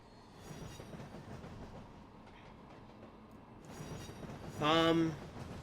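A TGV Thalys train in Trainz Simulator 2 on the Paris Gare du Nord route rumbles steadily along the track, with clattering wheels and a brief high wheel squeal near the end.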